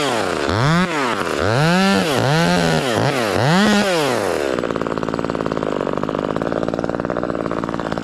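Echo 2511 top-handle chainsaw revving in repeated rising and falling bursts while cutting a pine tree, then holding a steady loud high whine as it bites through the wood, close and continuous.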